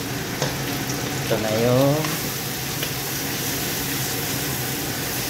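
Wagyu pinapaitan ingredients being sautéed in a pan, with a steady broadband sizzle running throughout and a brief stir, while a person speaks briefly over the cooking.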